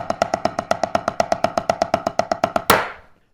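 An even, strong drum double stroke roll on snare, a steady rapid stream of crisp taps with matched strokes, closed by a single accented crash hit that decays.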